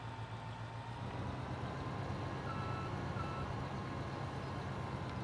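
Steady electronic reversing beeps repeat over a low engine drone from a farm vehicle backing up in Landwirtschafts-Simulator 17, loud and continuous throughout.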